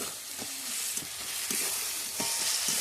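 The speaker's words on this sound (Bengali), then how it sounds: "টমেটো কুচি দিয়ে দেবো। এবারে কষে নিতে হবে" Chopped tomatoes sauté with spices for a Bengali chicken and potato curry, a bright steady sizzle punctuated by several rhythmic spatula scrapes and taps against the pan.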